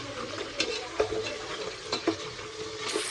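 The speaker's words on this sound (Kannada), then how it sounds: "ಈಗ ಈರುಳ್ಳಿ ರೋಸ್ಟ್ ಚೆನ್ನಾಗಿ ರೋಸ್ಟ್ ಆಗುತ್ತೆ ಈರುಳ್ಳಿ" Sliced onions roast with bay leaf in oil for a homemade biryani, a soft sizzle under scattered spoon clicks and stirring taps, close by and without speech.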